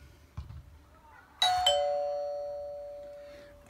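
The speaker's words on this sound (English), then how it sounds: "So it's ringing the doorbell." A Ring video doorbell's two-tone chime rings out, the second note ringing on and fading slowly over a few seconds before a faint click.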